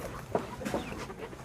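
A chicken on a Thai farm gives a few soft clucks, spaced and fairly close, over a steady outdoor background.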